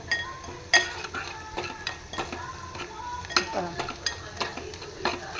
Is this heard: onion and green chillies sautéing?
yes